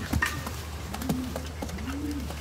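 A grizzle pigeon gives soft, low cooing calls in a couple of rolling phrases, close to the microphone, over a steady low background hum.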